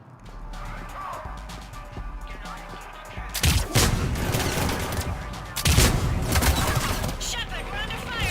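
Heavy gunfire erupts in a Mass Effect 3 firefight, with rapid shots and crashing impacts swelling loudly in two intense waves after a quieter stretch, while voices talk beneath the action.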